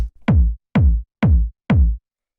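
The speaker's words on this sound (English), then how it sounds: "just this really fat, hard-hitting kick that still has a lot of nice bass to it." Four fat, hard-hitting tech house kick drums with deep bass tails, struck alone in an even rhythm at roughly half-second intervals, loud and punchy with silence between hits.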